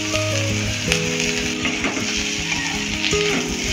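Chopped onion, green chili and tomato fry in hot oil for a spiced puffed-rice (muri) mixture, giving a loud, steady close-up sizzle that runs the whole time with no talking.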